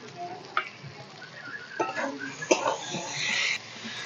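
Jackfruit, potato and prawns fry in a spice masala, village Bengali style, with a steady sizzle and repeated scraping and stirring against the pan that grow denser and louder toward the end.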